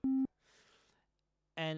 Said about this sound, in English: We have a sine wave.